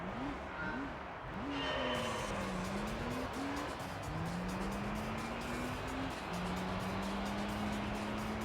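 A Subaru race car on a Gran Turismo 3 track, engine droning steadily up and down through gear changes, with brief tire squeal and a continuous loud road roar throughout.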